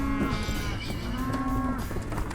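Cattle on a farm give several low, drawn-out moos close by, overlapping in a steady lowing chorus.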